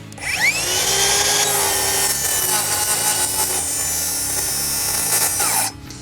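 Circular saw with a blade guard cutting through plywood under heavy pressure, the blade binding and beginning to burn the wood; a loud, close, high-pitched whine with a grinding rasp that runs for several seconds, then cuts off abruptly.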